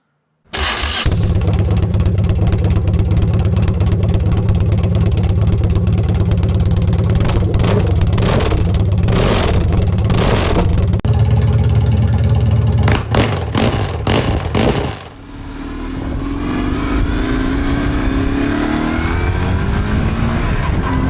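A car engine running with its exhaust removed, on a car with a worn-out clutch, revs loudly and raspily in repeated bursts, then drops back to a rougher, steady idle toward the end.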